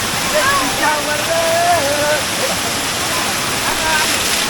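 A waterfall at Navale village in Sindhudurg makes a steady, close roar of falling water, while someone talks over it.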